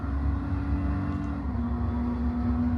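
A car engine drones steadily in a racing video game as the car slides and understeers through a turn, a constant whirring tone that shifts pitch slightly midway.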